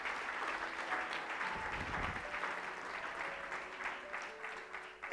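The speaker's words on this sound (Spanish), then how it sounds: "Levántale un aplauso al Señor," A church congregation claps in steady, sustained applause for several seconds, moderately loud and continuous, with faint voices mixed in.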